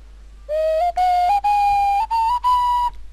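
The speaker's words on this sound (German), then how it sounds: "Wenn ich jetzt auf meiner Flöte pfeife," A flute or whistle sounds in a Portal 2 co-op session, playing a few sustained tones that step slightly upward in pitch, with short gaps between them, clear and fairly loud on its own.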